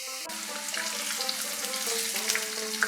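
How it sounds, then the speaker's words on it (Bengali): Nimki dough slipped slowly into hot oil and deep frying, a steady bright sizzle hissing continuously, with soft tonal background music running underneath. "আস্তে আস্তে ছেড়ে দিলাম ভাজতে"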